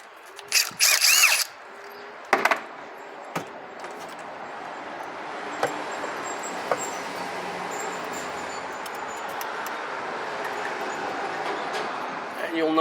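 A power tool runs in a few loud bursts near the start, backing bolts out around the edge of a Hyundai/Kia A4CF automatic transmission valve body, then fades into quieter clicks and faint handling noise.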